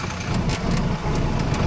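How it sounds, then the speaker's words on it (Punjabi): A tractor engine idles and runs steadily close by, a continuous low, rumbling drone with no talk over it. "ਲਓ ਜਵਾਨ ਉਹ ਟਰੈਕਟਰ ਲਈ ਫਿਰਦਾ ਇੱਕ ਆਪਣਾ"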